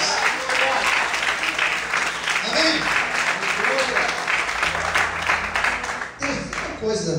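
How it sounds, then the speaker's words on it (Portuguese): A church congregation claps and applauds loudly and continuously, a dense crowd sound that fills the room and fades slightly near the end while a voice speaks briefly over it. "Quantos podem aplaudir e glorificar o Senhor bem forte?"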